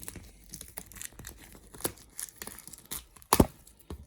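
Plastic packaging and shrink wrap are torn and crinkled in scattered short rips and rustles up close, with one louder sharp tear near the end.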